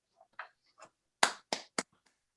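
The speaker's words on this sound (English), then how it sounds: "everyone, please join me giving this project and this team a round of applause." A handful of separate hand claps during an Oregon State Land Board meeting, a few faint claps followed by three louder, sharper ones close to the microphone, with no crowd behind them.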